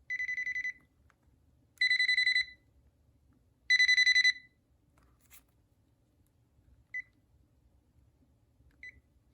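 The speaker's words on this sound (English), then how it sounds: "I've never heard this ringtone on any other Panasonic phones." A Panasonic KX-TG2583S 2.4GHz DSS cordless phone rings with three short bursts of electronic trilling tones, evenly spaced and clean, followed by a couple of faint single beeps in a quiet room.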